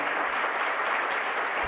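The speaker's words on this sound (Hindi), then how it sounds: "उनके लिए भी आप तालियां बजा दो कम से कम" Steady applause from an audience at a Jain religious discourse, a dense wash of many hands clapping evenly and fairly close throughout, with no voices over it.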